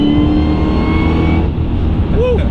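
A powerful American sports car accelerates hard with a loud, continuous engine roar and revving, heard from inside the cabin; a voice briefly whoops near the end.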